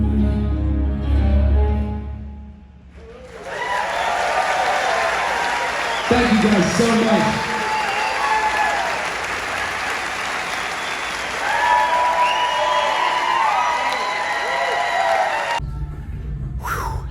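A theater concert crowd applauds and cheers loudly and continuously after a performer's set, a dense wash of clapping with whoops rising and falling, while someone speaks briefly over it at the start and end.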